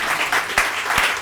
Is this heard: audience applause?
yes